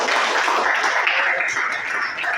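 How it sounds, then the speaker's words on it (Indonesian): A classroom of students applauds together, a dense, steady burst of hand clapping lasting a couple of seconds, fairly loud and close. "Tepuk tangan."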